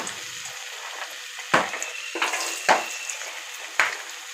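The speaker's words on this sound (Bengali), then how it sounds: "আলুটা একটু দিয়ে বেশ ভাজা ভাজা করে নেব" Potatoes sizzle steadily in a hot pan, with a few sharp clanks of a spatula stirring at intervals.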